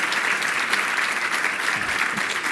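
A short burst of steady, dense audience applause at a tech conference session, many hands clapping evenly at close range with no voices over it.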